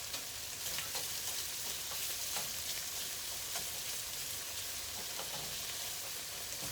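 Shrimp with chopped shallots and green onions sizzles steadily in a pan, a continuous, fairly quiet frying hiss with faint crackles, no voices.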